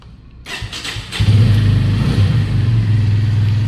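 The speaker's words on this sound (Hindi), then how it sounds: "स्टार्ट करते बाइक को" A 2023 Bajaj Pulsar P150 motorcycle is started with a brief cranking whirr, then its engine catches and settles into a steady, loud, close idle with a low throbbing pulse.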